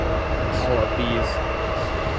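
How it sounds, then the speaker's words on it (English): Airliners taxi at O'Hare Airport, a steady low jet-engine rumble and whine filling the air at a moderate distance, continuous and unbroken. "aircraft, some taxiing."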